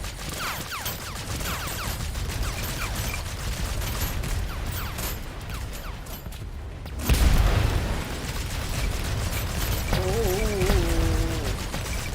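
Enemies blow up in a Mars shooter game, giving a dense, loud barrage of bursts and pops with a heavy boom partway through, followed by more rapid blasts.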